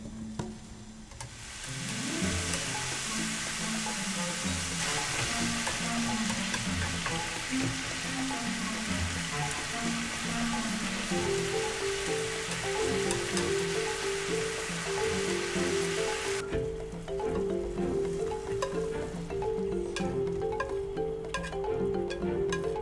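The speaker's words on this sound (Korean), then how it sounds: "중간불에 맛있게 볶으면 됩니다" Bulgogi beef stir-fries over medium heat in a hot pan, giving a steady, dense sizzle that continues throughout with soft stirring scrapes and no voices.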